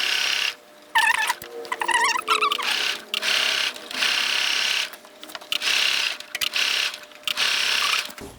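A sewing machine running ease stitches around the curved sleeve cap of a sheer button-down crop top, close and steady, buzzing in several bursts separated by short pauses, with no talk.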